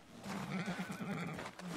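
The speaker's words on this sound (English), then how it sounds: "Come on now, horsey." A horse in Red Dead Redemption 2 whinnies in one sustained, wavering neigh that lasts nearly two seconds, fairly loud and close, with no talking over it.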